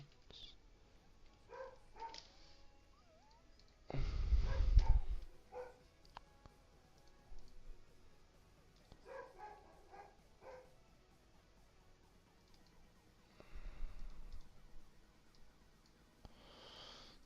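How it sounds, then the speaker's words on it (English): A dog barks indoors in a few short bursts, one loud cluster near the start and another later, with someone talking in between. "Oh, shut up, you dog!"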